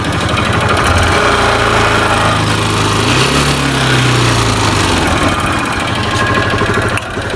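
A small motorbike engine revs up and runs loudly nearby, its pitch rising briefly before settling back into a steady idle.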